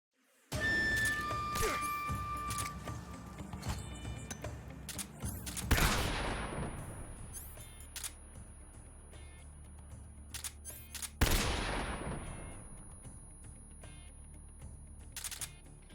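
Gunfire in Metal Gear Solid 3 HD Edition: a couple of loud, sharp shots stand out a few seconds apart, each with a lingering tail, over quiet game ambience with no talk.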